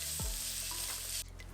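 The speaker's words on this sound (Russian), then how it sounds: "В глубокую кастрюлю вливаю растительное масло и пассерую овощи до мягкости" Onion and celery sauté in vegetable oil in a deep pot with a steady, close sizzling hiss and a soft clunk of stirring near the start.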